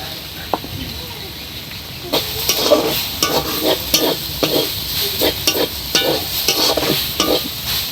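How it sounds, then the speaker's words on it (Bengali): Frying sizzle in a hot pan jumps up suddenly a couple of seconds in as shrimp are added to frying greens, then crackles steadily with repeated stirring scrapes; no voices. "আমি এখন চিংড়ি মাছটা দিয়ে দেব।"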